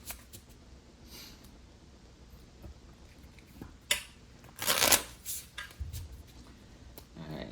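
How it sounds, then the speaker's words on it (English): Tarot cards being shuffled between readings, with soft riffling and a few louder crisp bursts of card flutter near the end, close and moderately quiet over faint room noise. "Let me go ahead and get a couple shuffles in before we start on their person's side though."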